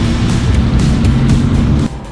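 A supercar engine roars loud and steady with a deep, rumbling drone, then drops off abruptly near the end.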